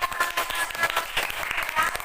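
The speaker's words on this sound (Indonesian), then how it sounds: "kita kasih tepuk tangan dulu untuk kelompok 3" Classroom applause for a student group after their mosaic work, short scattered claps from a class lasting about two seconds with some voices mixed in.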